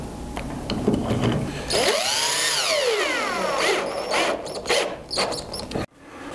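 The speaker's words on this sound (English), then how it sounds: "Put a screw in." A power drill driving a screw into a handmade wooden art clock, a rising and falling whine in short bursts, close and loud, ending in an abrupt stop.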